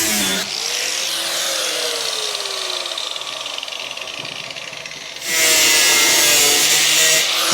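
Power tool cutting metal flanges off custom seat rails for a Honda Type R–engined mini supercar build, a loud continuous grinding cut with a falling whine, then a harsher, louder burst near the end, with no talking.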